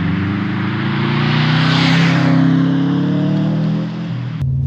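A Subaru Impreza WRX GF8 AWD estate pulls in second gear, its turbocharged engine droning loudly from inside the cabin as revs climb smoothly, then easing off near the end.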